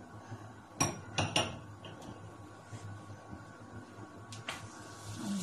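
Chapati dough dropped into a kawali frying pan with a little oil, giving a few sharp clinks and knocks near the start and again toward the end over a low steady kitchen background.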